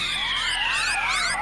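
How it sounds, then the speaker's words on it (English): Police sirens wail steadily and loudly, several overlapping sweeping tones layered together with no voices over them. "sirens wailing."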